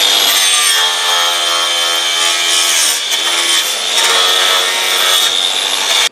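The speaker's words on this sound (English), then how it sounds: "All I'm doing is cleaning up this steel with one of these knotty brushes here" A knotty wire brush scrubs steel legs for a woodburning heater in steady, loud back-and-forth strokes that run continuously with a harsh, bright rasp and no talking.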